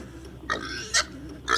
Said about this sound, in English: I believe that's a pig.